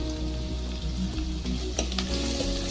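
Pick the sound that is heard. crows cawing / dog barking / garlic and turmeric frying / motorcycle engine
garlic and turmeric frying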